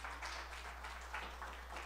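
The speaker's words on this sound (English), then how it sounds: "let's give them another round of applause" An audience applauding at a Swami Vivekananda Day celebration after a skit: a steady, soft wash of many hands clapping, heard from a distance at low volume without pause.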